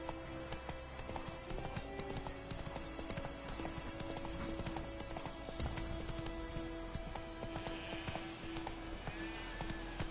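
Hoofbeats of the horse Roach galloping in The Witcher 3, a steady rapid clip-clop that runs throughout at an even, driving pace, dense and continuous over the game's ambient sound.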